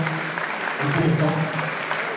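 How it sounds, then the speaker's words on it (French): A boxing crowd applauds the Brazilian boxer El Pantera at ringside, sustained clapping mixed with voices and murmuring from the audience. "je voudrais qu'on applaudisse notre Brésilien El Pantera"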